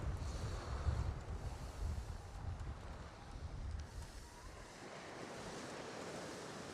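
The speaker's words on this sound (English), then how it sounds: "Wind's picking up, blowing in my face." Blustery wind buffets the microphone on a seafront promenade at Cromer, mixed with the steady wash of surf, a constant low rumble with no voices.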